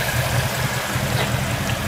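A 2019 Ford Mustang GT Premium with a 5.0-litre Coyote V8 idles steadily, a deep, even rumble with a low pulsing throb, close and alone without talk.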